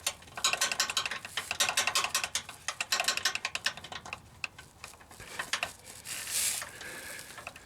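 Spanner worked on a bolt during a Hitachi compressor swap on a Land Rover Discovery 3, rapid ratcheting metallic clicks in quick bursts with short pauses, close and alone without talking.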